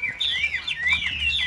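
A Chinese hwamei songbird sings close up in a continuous run of bright, varied whistled phrases, loud and clear with no talk over it.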